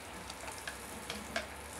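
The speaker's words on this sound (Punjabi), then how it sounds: "ਲੈ ਜੀ ਉਹਨੂੰ ਘਿਓ 'ਚ ਤੜਕਾ ਲਾਵਾਂਗੇ" Spices tempered in hot ghee fizz with a steady, fairly quiet sizzle and a few small crackles, heard alone without talk in a home kitchen.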